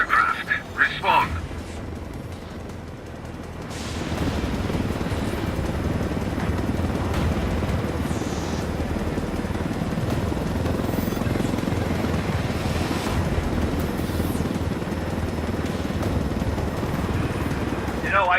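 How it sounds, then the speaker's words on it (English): A military helicopter in the Ghost Recon video game flies with a steady, loud rotor drone that holds through the whole stretch, with game dialogue spoken over it. "I told Griffin I could figure out how to fly this thing. Qualify for planes. But not choppers."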